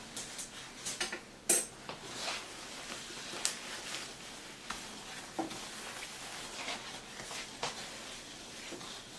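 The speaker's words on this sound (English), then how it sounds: "And stir until it's all together." A spoon stirs sugar into cookie mixture in a bowl, soft scraping with a few louder clinks against the bowl, fairly quiet and without talk.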